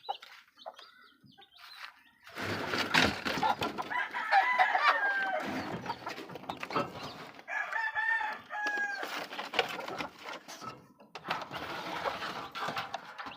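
Chickens cluck and call close by in a farmyard, a rooster crowing among them and softer peeping from young chicks, the calls overlapping in a steady, lively flock chorus.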